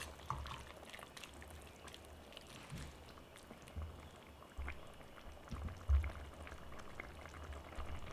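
Cooking liquid for patchoi with shrimp boils hard in an uncovered pot on a high burner, a steady bubbling hiss with occasional louder pops, close and continuous without talk.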